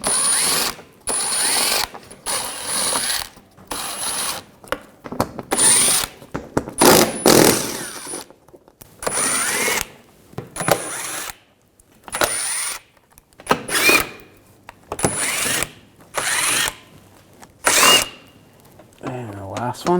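A ratchet with an 8mm socket turns the shield bolts on a 2007-2013 BMW 328i. It comes as repeated bursts of quick clicking, close and fairly loud, separated by short pauses.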